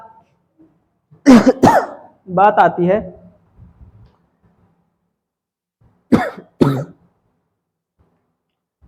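Two bursts of harsh coughing, a double cough followed by a short spoken phrase, then another pair of coughs after a pause, close to the microphone.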